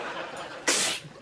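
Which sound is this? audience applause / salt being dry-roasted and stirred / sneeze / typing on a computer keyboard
sneeze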